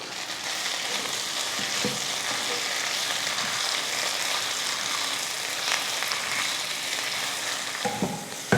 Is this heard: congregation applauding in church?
no